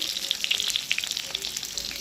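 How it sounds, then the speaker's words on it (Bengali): Fish fries in a pan with close, crisp crackling and sharp oil pops spattering rapidly throughout a brief burst. "দেখো মাছগুলো ভাজা হয়ে গেছে"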